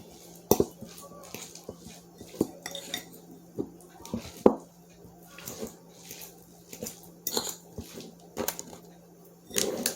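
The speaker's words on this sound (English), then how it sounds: "Mix that up really, really good." A spoon clinks and scrapes against a bowl while a soy sauce mixture is stirred, with irregular taps and clatters close by.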